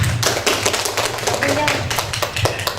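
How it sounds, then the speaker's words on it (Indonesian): A group applauds for group 2 at a teacher training session, giving a short burst of close, dense clapping with some tapping sounds. "Kasih tepuk yang meriah dulu untuk kelompok 2"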